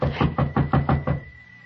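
Six evenly spaced knocks rap on a door in quick succession, fairly close and solid, then stop and leave a short quiet tail.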